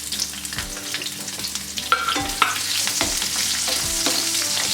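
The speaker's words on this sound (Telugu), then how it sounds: "గోల్డెన్ బ్రౌన్ కలర్ వచ్చేంత వరకు వేయించుకోవాలండి" Sliced onion frying in hot oil with mustard and cumin seeds, a continuous bright sizzle with soft stirring scrapes and clinks, close and steady throughout.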